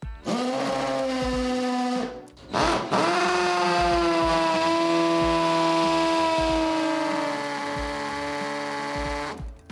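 A hammer drill bores into a tile joint in a wall with a loud, sustained, strained whine that stops briefly after about two seconds and then resumes steadily until the end.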